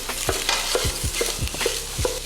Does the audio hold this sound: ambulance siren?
no